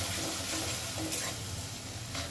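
Chili and coriander powder masala fries with a splash of water over low flame, a dense continuous sizzle with faint stirring scrapes, close and even throughout.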